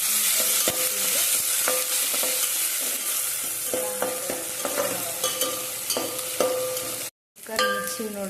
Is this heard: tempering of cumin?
yes